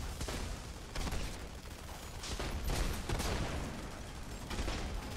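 Shotgun fire in The Expendables 2 video game, several loud broadband blasts around one, two and a half and three seconds over dense ongoing gunfire and battle noise, with no talk.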